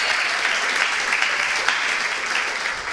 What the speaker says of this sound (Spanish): Denle ese aplauso al Señor en esta mañana.